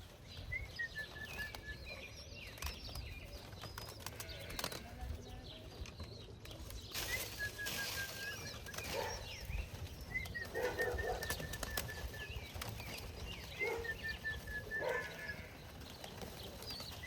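Pigeons flap and flutter back into a loft, with soft wingbeats and faint chirps repeating over about seventeen seconds under steady outdoor background noise.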